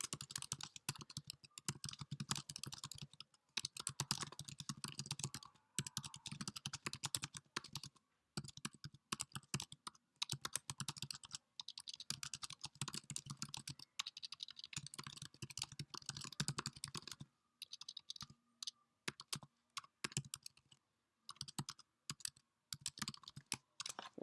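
Computer keyboard keys tapped steadily while a comment is typed, a close, dry run of clicks in bursts with short pauses, continuing for about twenty seconds with no talk.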